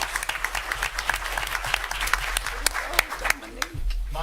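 A city council meeting room full of people clapping steadily, dense and sustained applause that starts to fade near the end as a voice begins.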